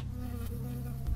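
In the game Firewatch, a bee buzzes close by with a steady, droning hum that holds for about a second, alone with no voices.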